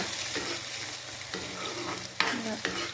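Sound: tomatoes frying and stirred for tomato chutney

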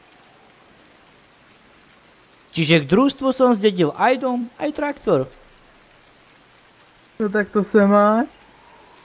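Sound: rain falling, from a video game

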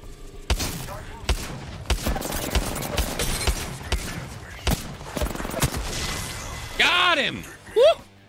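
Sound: new sniper rifle gunfire in Apex Legends video game

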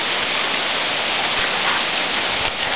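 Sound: rain falling by the front porch

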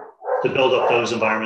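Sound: dog barking

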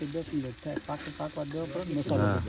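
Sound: mixing green chilies and masala in a pan

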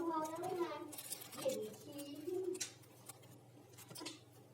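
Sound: bird calling

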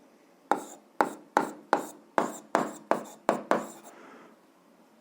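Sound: writing on a board

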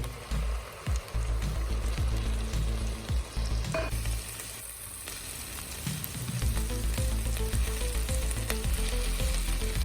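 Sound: onions and tomatoes frying in oil for gravy

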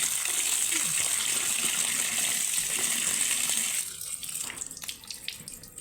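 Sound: ash gourd being washed in water

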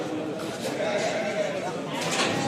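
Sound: lambs bleating at Kadirli livestock market

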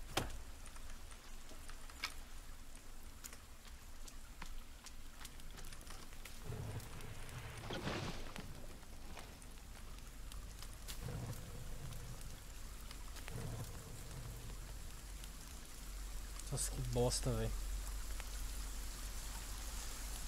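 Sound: rain falling at night in the forest

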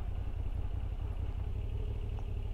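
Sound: Moto Guzzi V7 Stone motorcycle engine while riding

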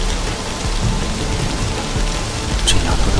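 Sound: heavy rain outside

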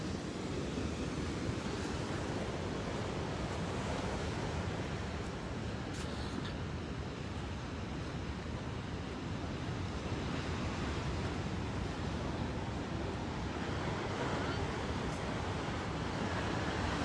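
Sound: ocean waves and surf at La Jolla

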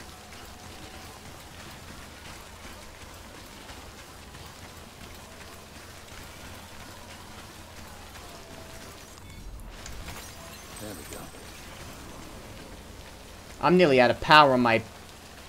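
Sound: Timefall rain downpour in the video game Death Stranding

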